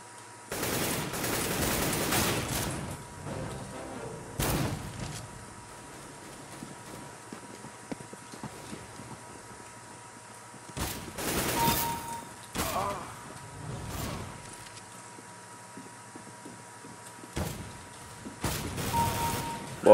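FAMAS rifle fire in CS:GO, repeated bursts of rapid gunshots separated by quieter stretches of in-game footsteps and ambience, loud and close.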